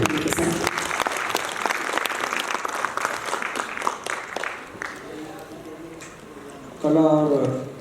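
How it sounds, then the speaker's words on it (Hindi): Audience at the Rewa Rang Mahotsava arts festival honorary ceremony clapping loudly and steadily before the applause fades; a voice speaks over the tail end. "आपकी तालियों की करतल ध्वनि के साथ।"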